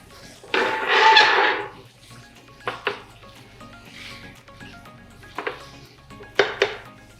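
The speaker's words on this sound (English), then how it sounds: "I've got a little meat potato masher. And this is we're just gonna break up the crumbles." Metal clatters and scrapes against a pan, a long rough scraping burst followed by shorter knocks and scrapes as ground meat is mashed and broken up with a potato masher.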